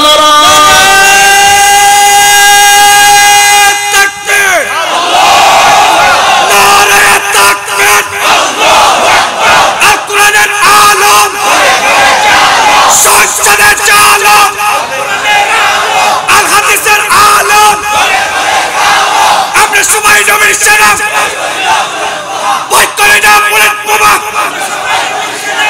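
A large crowd chants the Allahu Akbar slogan in loud, massed, rhythmic voices that swell and repeat continuously over a long stretch at a religious gathering.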